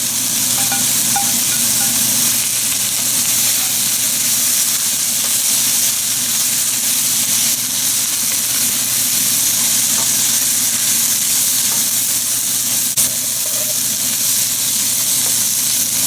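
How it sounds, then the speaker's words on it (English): Mushrooms go back into a frying pan of pork, and a constant loud sizzle and hiss fills the whole stretch, steady with little variation and no talking over it. "We'll add the mushrooms back at this point."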